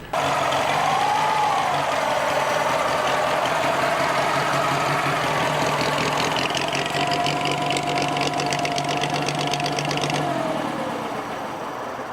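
A 1932 MG Model D with an M-type engine runs near and loud, a steady buzzing note that rises briefly, holds for several seconds, then fades as the engine drops off at the end.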